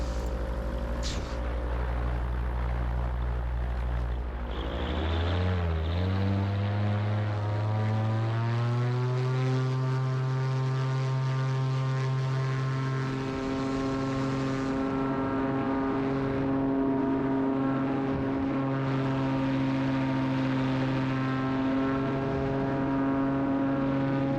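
A small single-engine propeller airplane powers up on the ground for a flight from a Utah airport; the engine note climbs from a low idle into a steady, loud full-power drone that holds to the end.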